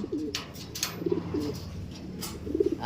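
Pigeons cooing softly nearby over a steady outdoor background, with a few faint flutters, as two young birds are released.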